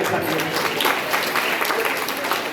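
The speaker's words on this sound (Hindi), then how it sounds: "आप सब लोग के लिए पुनः एक बार ताली बजा रहे हैं" An audience at a Bhagavat Katha discourse in Kadwali claps steadily in a dense, continuous burst that holds at an even level from start to end.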